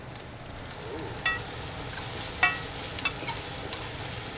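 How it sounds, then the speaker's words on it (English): Onions being stirred vigorously and seared in a hot pan, with a steady frying sizzle and a few sharp scrapes and taps from the utensil, close and without talk. "when you're doing the onions, you want to stir vigorously"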